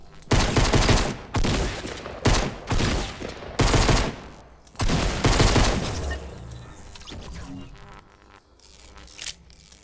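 Pistol fire in a Fortnite Battle Royale match: a string of loud, sharp shots in quick bursts over the first few seconds, then a quieter stretch of game ambience.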